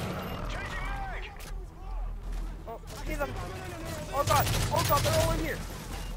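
A sentry gun fires in Call of Duty: Modern Warfare 3 during a Spec Ops mission, loosing rapid bursts of automatic fire amid other battle noise, with players talking excitedly over the shooting.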